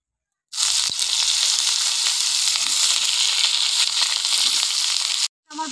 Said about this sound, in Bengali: এবার এই তেলে আমি বেগুনটা ভেজে নেব।